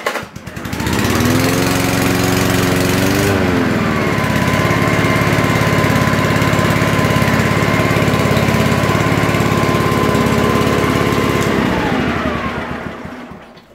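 A 36-year-old Honda lawn mower with a Toro bag fitted to its frame starts up and runs with a loud, steady engine drone that holds for about ten seconds before cutting off.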